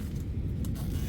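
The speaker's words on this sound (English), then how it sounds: "The zipper is really, really hard to open." A stiff tent zipper on a deserted island is dragged open in one short, scratchy rasp, close and alone.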